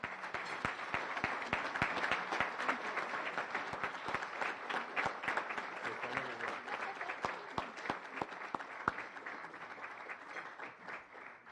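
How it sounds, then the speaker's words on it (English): Sustained audience applause fills a Rotary Club meeting room, dense steady clapping from many hands at fairly close range and holding strong throughout with no speech over it. "round of applause and appreciation for her"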